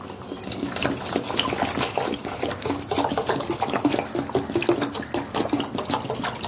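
Flattened rice (poha) is washed by hand in a bowl of water, giving close, rhythmic splashing and sloshing as the grains are squeezed and rinsed, with no talk.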